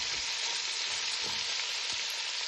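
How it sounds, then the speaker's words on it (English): Vegetables with pepper, cinnamon and thyme sizzle loudly and continuously in a pot for Jamaican oxtail, a dense steady frying hiss with a few soft stirring bumps underneath. "I'm going to add all of my vegetables, pepper, cinnamon, and thyme to the pot"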